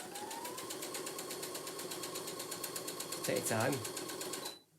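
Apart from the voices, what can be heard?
sewing machine stitching a handbag seam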